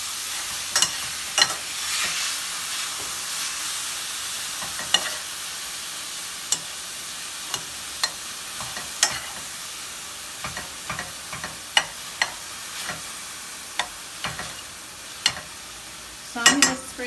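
Ground meat for baked ziti sizzles in a pan at a low, constant hiss, punctuated by sharp, irregular taps and scrapes of a utensil, with no talking.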